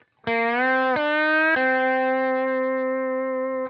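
A sustained electric slide guitar lick in standard tuning with sliding pitch changes and heavy effects, three notes gliding into one another before a long held tone, loud and alone.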